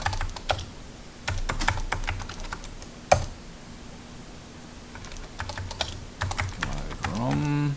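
Keys clatter on an old MSX home computer keyboard in bursts of rapid taps separated by pauses, close and fairly loud, with a low electronic hum beneath.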